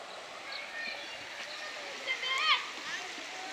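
Stream water flows and gurgles softly and steadily where Ganesh idols are immersed, with faint splashes and a few chirping calls over the running water.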